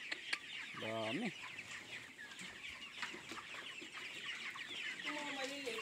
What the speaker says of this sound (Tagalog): Guys, ang daming manok niya, no?